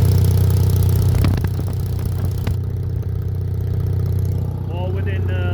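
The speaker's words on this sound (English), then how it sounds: "this is a 2-cylinder gasoline motor. Stepping back about 10 feet or so. That's what it sounds like." A 2-cylinder Onan gasoline generator engine runs with a steady, loud, close drone, with a few clattering knocks early on and someone speaking briefly near the end.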